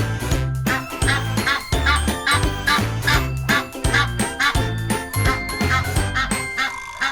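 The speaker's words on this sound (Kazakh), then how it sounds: "Қаз га-га-га дейді." A goose honks in a quick, repeated rhythm over bouncy music with tinkling jingles, each burst of calls loud and evenly spaced.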